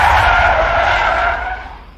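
A car skids to a stop as a dramatic sound effect, with one loud, sustained tire screech over a low engine rumble that fades toward the end.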